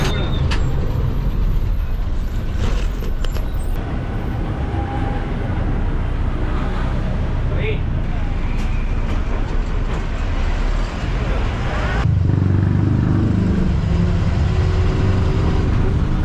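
City bus riding between Kilambakkam and Iyyappanthangal in Chennai, heard from inside near Tambaram: a steady, loud engine and road rumble with rattles that runs continuously and shifts to a deeper drone near the end.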